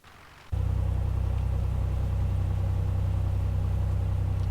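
Cessna 182 Skylane piston engine in the A2A flight simulator game starting up after a brief quiet moment, then settling into a loud, steady low-pitched idle drone.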